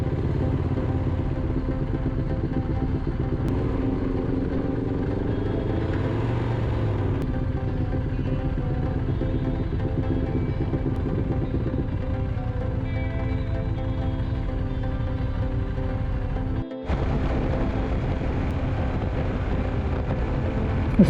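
A motorcycle cruises along an open road on a charity ride, its engine a steady, close rumble droning on without a break, wind noise over it and one brief dropout near the end.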